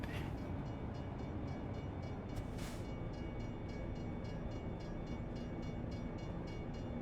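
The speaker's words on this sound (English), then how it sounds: "Let's ease up because there's a train going through." A train rumbles steadily past a road in American Truck Simulator, with a brief horn-like burst near the start and another midway, heard alone without talk.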